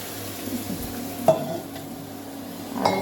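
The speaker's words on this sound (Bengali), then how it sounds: "তো সবজিটা কষাচ্ছি আর কি জল দিয়ে দেবো একটু আদা বাটা দিয়েছি" Mixed vegetables with ginger paste sautéing in a pan on a home stove, a quiet continuous sizzle with stirring and a couple of sharp utensil clinks against the pan.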